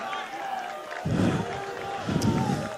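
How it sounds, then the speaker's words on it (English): At a boys high school soccer tournament match, a crowd on the sidelines rises in two noisy bursts of cheering and shouting beneath steady play-by-play commentary. "a lot of energy from the crowd"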